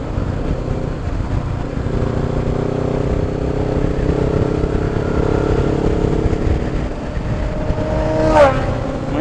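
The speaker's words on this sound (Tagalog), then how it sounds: "Puro big bike na." Big bike motorcycles riding along a road loop, a loud continuous engine drone with rising and falling revs and a brief surge near the end, heard close from among the riders.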